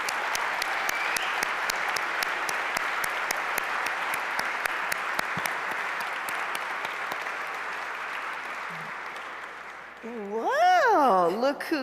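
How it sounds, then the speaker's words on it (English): Audience applause at a gala, a dense, sustained clapping that fills the room for about ten seconds and then fades, followed by a voice speaking near the end. "would you also please stand so that we can give everybody a huge round of applause"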